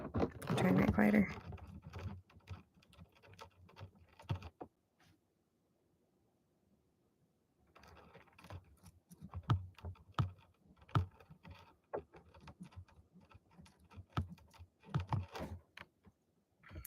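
Pen writing on paper on a table, a close series of soft scratchy strokes in bursts with a silent pause partway through, and a voice speaking at the start.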